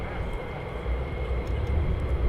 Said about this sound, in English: So his partner is taxiing down now.